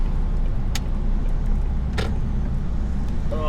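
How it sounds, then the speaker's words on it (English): A car sits close behind a stopped truck on the road, its engine a steady low rumble throughout, with a couple of faint clicks and no voices. "I've got a car right behind me."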